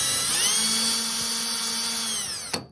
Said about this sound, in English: I use a step drill to initiate the big holes